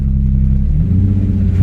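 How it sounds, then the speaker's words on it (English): A 2008 Nissan 350Z engine idles close by, a steady deep rumble with a slight rise in pitch toward the end, no talking. "Right now it seems to be idling pretty good."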